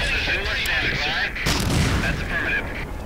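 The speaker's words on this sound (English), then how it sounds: "There's currently a grenade in my spot." A grenade blows up in the WWII shooter game Medal of Honor Allied Assault: one loud, booming blast midway through the clip over constant gunfire and battle noise.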